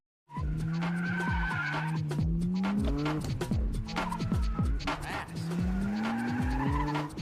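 Race cars drift through mountain road bends in an Initial D film scene, tires squealing in long wavering screeches over revving engines, with the skids repeating in waves and music underneath.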